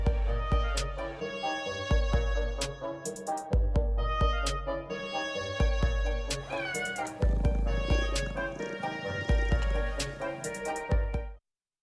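A cat meows repeatedly over about twelve seconds, with loud, close, drawn-out calls that come in an irregular series of short and longer cries.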